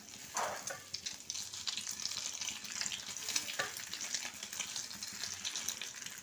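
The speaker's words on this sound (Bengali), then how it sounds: "আমি এবার তেলেতে ডিমটাকে এরকমভাবে ছড়িয়ে দিচ্ছি।" Beaten egg spread into hot oil for fish kobiraji, a soft, close, continuous sizzle and bubbling fry with a brief louder spatter at the start, no speech.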